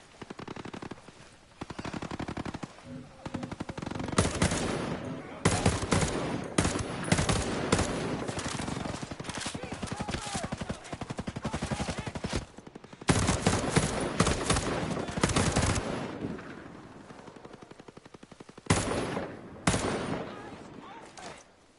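Rapid automatic gunfire rattles in a PS4 shooter game, with dense bursts and sustained volleys that come and go over about twenty seconds, loud and close, with a player's voice talking over parts of it.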